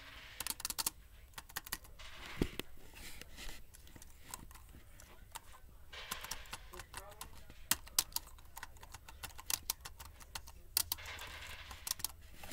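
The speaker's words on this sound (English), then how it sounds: "The keyboard sounds not that clicky, and it is obviously a membrane keyboard" Typing on a cheap $20 Walmart membrane keyboard, a quiet, soft, non-clicky patter of rapid irregular key presses with occasional louder taps, heard close up without talk.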